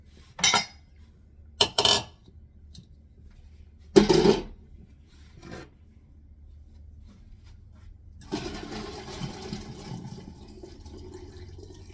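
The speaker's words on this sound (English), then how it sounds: "I'm going to drain the beans." Cooked broad (fava) beans being drained in a kitchen: a few sharp metallic clanks of pot and utensils spaced apart, then a gush of pouring water that runs steadily to the end.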